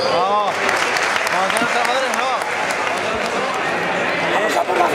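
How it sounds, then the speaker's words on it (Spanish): A crowd claps at a prize-giving during the Cipotegato festival, a continuous wash of applause with voices calling and talking over it. "Venga, un aplauso, por favor."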